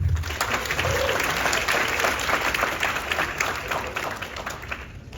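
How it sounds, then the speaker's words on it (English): Conference audience at an iOS tech event applauding a speaker: a dense, steady round of clapping from a crowded room, holding strong throughout and fading slightly at the end. "And please give a round of applause for Juna."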